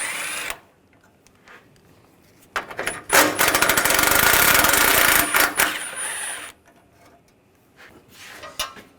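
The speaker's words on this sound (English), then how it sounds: "I'm going to take these 3 bolts out, use a 10mm socket" A ratchet fitted with a 10mm socket works bolts loose on a 2014-2019 Toyota Corolla, a fast ticking burst of clicks running several seconds, close and loud, with scattered softer tool clicks before and after.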